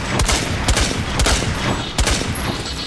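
Rapid gunfire in the video game Rainbow Six Siege, loud and close, with sharp bursts of shots roughly every half second over continuous noisy action.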